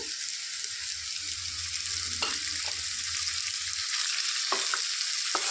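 Snake gourd pieces frying in a pan of tempering, a constant bright sizzle with occasional scraping stirs and a low rumble underneath early on, no one speaking.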